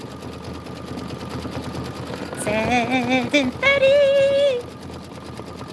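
A home embroidery sewing machine stitches a satin outline around a cloud design for a Kimberbell tile project, producing a rising and falling whirring drone with tonal stepping notes for a couple of seconds, heard alongside background voices and shop chatter.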